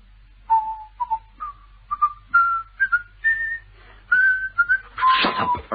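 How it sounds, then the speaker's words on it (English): Someone whistles the Skye Boat Song alone, short clear notes rising step by step, ending in a breathy burst of noise. "Yes, he was whistling. Sky Boat Song. Catchy tune, isn't it?"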